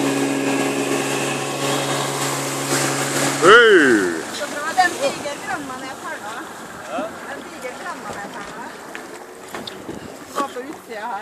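An old motorboat engine drones steadily, then gives way to wind buffeting and water noise, with voices talking intermittently over the top.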